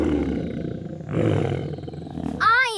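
A child imitates a lion's roar with loud, close, growling vocal roars that come in two swells, ending in a brief higher rising cry.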